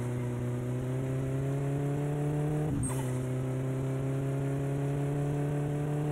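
A car engine in the driving game My Summer Car, pushed toward 300 km/h in fifth gear, holds a steady, loud high-revving drone with a brief jolt midway and no speech over it.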